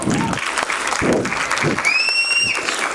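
An audience at a nursery school annual function claps and cheers for young dancers, with dense applause throughout and a few whistles and shouts rising near the end.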